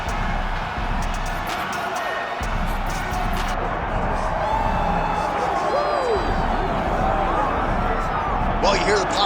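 A large UFC arena crowd roars and cheers continuously as a fighter walks out, a dense, loud wash of voices with commentary talking over it throughout.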